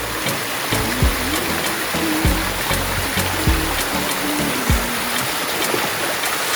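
Water pours steadily at Devil's Waterfalls as a stream rushes past, a loud, continuous close-up roar of flowing water with no voices.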